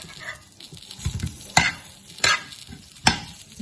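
Sweet corn frying in butter on a tawa sizzles as a spatula scrapes and stirs it, giving sharp periodic scraping strokes about every second over a low crackle.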